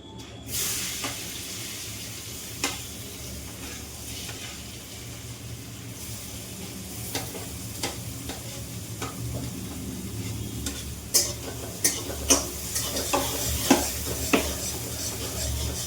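Chopped onion sizzles in hot oil with cumin seeds for vegetable pulao, a steady frying hiss broken by scattered utensil stirs and scrapes that grow more frequent toward the end; no one speaks.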